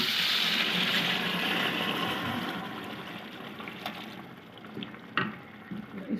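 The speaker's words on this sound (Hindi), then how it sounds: "यखनी हम सारी अब इस पर डाल लेंगे।" Stock poured into a pot of spice-fried beef for Bannu beef pulao, a continuous liquid rush that gradually settles into softer sizzling and bubbling, with light clinks near the end.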